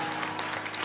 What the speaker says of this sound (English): Begin to clap.